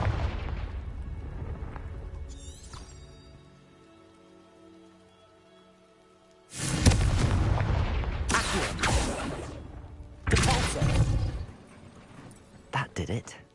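A Confringo blasting curse explodes in Hogwarts Legacy, erupting in a loud broadband burst after a quiet stretch, followed by a second heavy blast and scattered debris crackles, with rain-like hiss in the background.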